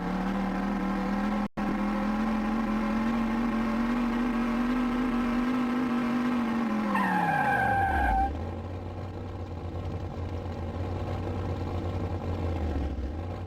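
A car in the 1995 Terminator driving game brakes hard, its steady engine drone sliding down in pitch as a tire screech rises, then the engine settles into a low idle hum. Loud and continuous, with no voices.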